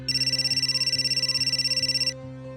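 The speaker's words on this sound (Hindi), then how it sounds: "इतनी रात को अमृत का फोन?" A telephone rings late at night with a bright electronic ringtone pulsing in rapid even beats for about two seconds, then cuts off, leaving a low background hum in a quiet room.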